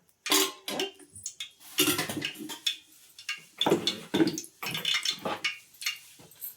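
A metal spoon clinks and scrapes against a cooking pot while a spoonful of fresh cow ghee is added to oil for upma; irregular, close, fairly loud taps and knocks without any talk.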